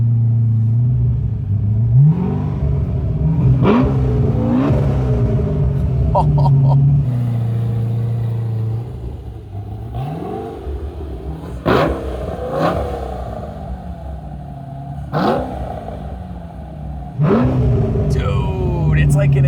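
A Porsche 911 with a swapped-in LS V8 and a custom exhaust rumbles loudly up close, its engine note climbing and falling through repeated revs for about twenty seconds, with voices faintly present underneath.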